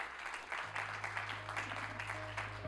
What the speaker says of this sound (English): As you do that, here's your applause.